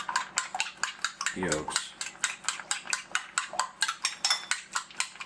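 Eggs being lightly beaten in a bowl with a spoon, a steady rapid run of close metallic clinks and tapping against the bowl, with a brief spoken remark partway through.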